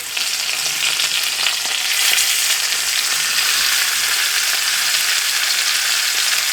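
Pieces of oxtail sizzling and frying over medium heat in a pressure cooker pot, a steady, loud crackling hiss that fills the whole stretch with no talking.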